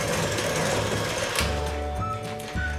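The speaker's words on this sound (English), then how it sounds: "If you're using a stand mixer, it'll probably go a little bit faster than if you were using a hand mixer like I'm using today." Electric hand mixer beating chocolate chip cookie dough, a steady motor whir with harmonic tones and shifting pitch as the beaters work the dough, close and continuous with no talking.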